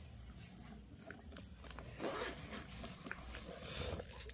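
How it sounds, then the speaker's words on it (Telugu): A handbag zipper being opened, a soft, quiet run of zipper teeth with faint rustling and handling noise, close by and without speech. "zip open"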